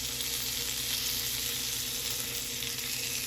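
Burger patties sizzle on a hot griddle in a steady, dense frying hiss that runs close and even throughout, with no talking over it.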